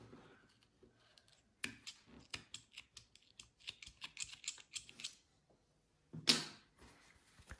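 Scissors cutting yarn after finishing a knitted ladybug slipper: a run of soft close snips and clicks at an irregular pace, followed by a louder rustling handling noise, with no talking.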